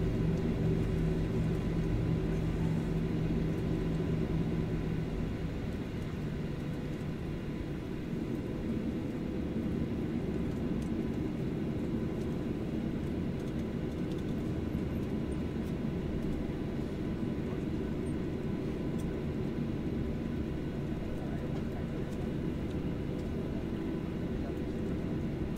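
Steady low rumble of a Solaseed Air airliner cabin arriving at Nagoya Chubu from Kagoshima, a broad droning hum with faint whine, continuous and muffled as the aircraft taxis.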